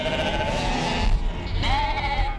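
Sheep on a Patagonian steppe farm bleat loudly and close, two long wavering calls one after another over a steady outdoor background, with no talk.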